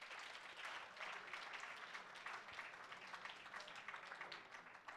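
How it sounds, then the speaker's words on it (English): Audience at a university excellence awards ceremony applauding the council, a steady wash of many hands clapping that stays even for several seconds, heard from a distance and fairly faint. "Can we therefore thank our council by giving them one of the biggest rounds of applause?"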